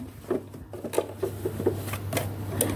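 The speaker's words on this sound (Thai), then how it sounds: "ตรงเนี้ยเราเย็บให้ติดกับชิ้นนี้นะ" A sewing machine stitches a bag piece in short, light bursts of needle taps and clicks, close and fairly quiet, with small pauses between runs and no talking.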